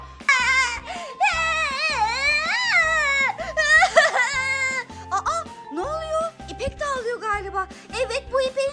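A young girl cries in repeated wailing, sobbing bursts with whimpering pitch swings, close and loud, broken by short pauses and some speech-like sounds.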